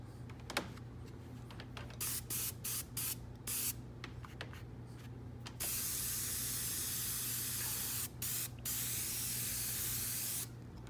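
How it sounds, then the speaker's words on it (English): SEM solvent coating sprayed from an aerosol can onto a surface: repeated short bursts of hiss early on, then one long sustained spray, a pause, and another steady spray to the end, fairly close. "now we're going to spray it onto the surface"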